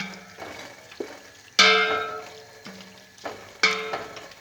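A spoon scrapes and clatters around a pot of tomatoes and peppers several times, with soft wet stirring and faint sizzling between the louder knocks.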